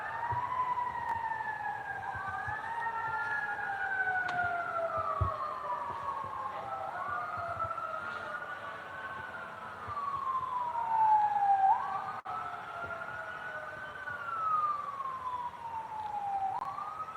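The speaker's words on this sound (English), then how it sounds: "sirens blare in the background" Several sirens wail at once in the distance, their pitches sweeping up and down and overlapping steadily over a low background hum.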